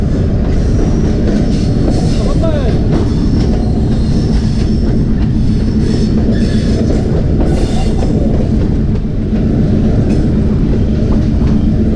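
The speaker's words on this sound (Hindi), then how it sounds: "सामने से आ रही है 40 डाउन जाफर एक्सप्रेस" The 40 Down Jaffar Express passing on a railway line beside a train halted on a loop line at Burhan station, a loud continuous roar of wagons with rhythmic wheel clatter and squeal, close and sustained.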